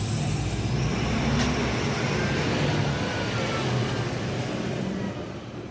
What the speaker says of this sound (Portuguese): O barulho dos ônibus na rua